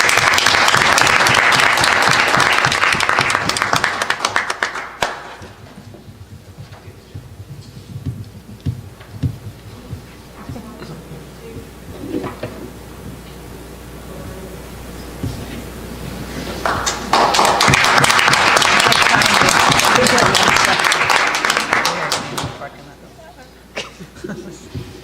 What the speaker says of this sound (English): Give a round of applause for Jonah again.